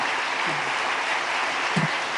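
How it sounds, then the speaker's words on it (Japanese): A congregation at a Friday all-night worship service gives a missionary warm applause, steady continuous clapping filling the room, with a faint voice briefly audible underneath. "お立ちになる時温かい拍手で歓迎してください。"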